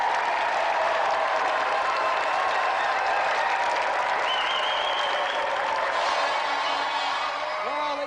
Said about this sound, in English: Let's give another round of applause then for Craig and Kirsty Monroe!